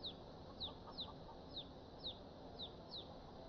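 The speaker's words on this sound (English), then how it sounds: "They got chicken coops." Chickens clucking around the coops in the Skyrim video game: about six short, sharp calls spaced at a steady rhythm over a constant low background hiss.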